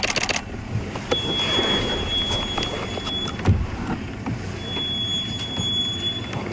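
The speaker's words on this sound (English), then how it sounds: "So that high-pitched noise you're hearing is just another vehicle moving. It's their brakes. There's a bit of sand in the brakes." On a safari game drive at Djuma Game Reserve, another vehicle's brakes, gritty with sand, squeal in a thin, high sustained tone that comes and goes over the low rumble of the moving truck, with no talking.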